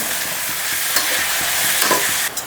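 Fenugreek leaves fry with onions in a pan for a prawn and brinjal curry, a loud, dense, continuous sizzle with brief stirring knocks and a sharp scrape near the end.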